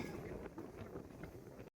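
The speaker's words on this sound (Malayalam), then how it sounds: "മലയുടെ മണ്ട വന്നു കഴിയുമ്പോൾ നല്ല കാറ്റുണ്ട് കേട്ടോ" Strong wind on a mountaintop buffets the microphone with a steady, rough roar before cutting off abruptly.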